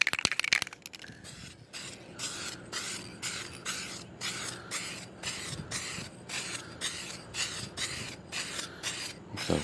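Aerosol can spraying coating across a new dining table top outdoors, a long series of hissing bursts in a steady rhythm, each spray a second or so, close and fairly loud with no talking.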